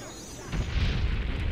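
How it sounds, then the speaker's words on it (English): Massive explosion in the video game Morrowind: a deep, booming rumble swells up after a brief quiet start and keeps rolling loudly to the end. "Oh god, that was a massive explosion."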